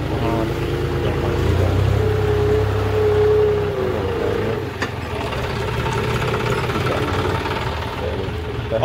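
A loaded tractor carrying bricks idles after arriving, its engine giving a loud, steady, close low rumble with a rough knocking texture that shifts slightly partway through, with no voices over it.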